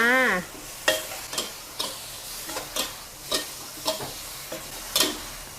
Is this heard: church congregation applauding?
no